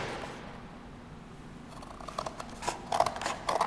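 Scissors cut into chipboard for a sculpture project, producing a quiet lead-in followed by a series of crisp, crunchy snips close to the microphone, growing louder and more frequent toward the end.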